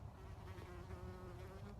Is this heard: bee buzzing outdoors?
yes